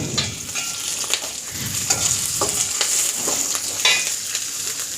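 Garlic, ginger and green chilies frying in oil in a pan, crackling and sizzling steadily with frequent spoon-stirring scrapes and taps throughout.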